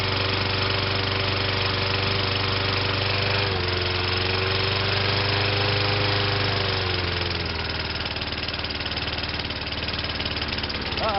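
A Tecumseh small engine runs rough and loud throughout, a steady low throbbing drone with uneven knocking that dips in pitch partway through as the engine labors, with no talking over it.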